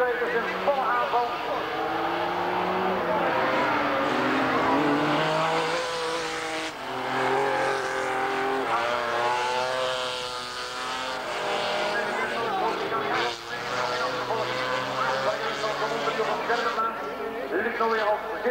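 Rallycross race cars compete in a 1985 Belgian final at Ingelmunster, with engines roaring and tires squealing and skidding throughout. A commentator talks continuously over the racing.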